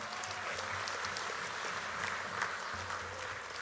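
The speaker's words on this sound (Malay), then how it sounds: "Tepukan untuk Johor." Sustained applause from a large party congress audience at the UMNO general assembly, dense steady clapping filling the hall with a low hum underneath and no voice over it.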